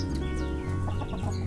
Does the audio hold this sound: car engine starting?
no